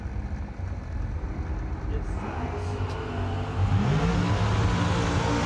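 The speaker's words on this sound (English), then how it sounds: "Both of them are going to go wheels up off the starting line." Drag racing launch at a New Year Nationals meet: a pickup truck and the Flamin' Chevy rev and roar off the starting line, engines swelling loud and rising in pitch over steady crowd and track noise, with talking mixed in.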